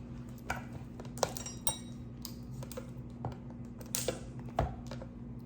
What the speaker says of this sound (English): I'm gonna go ahead and open up my crab meat